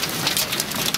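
Hail of small ice pellets pelts a village garden in Altai Krai, a dense, continuous, loud clatter and hiss with no gaps and no voices.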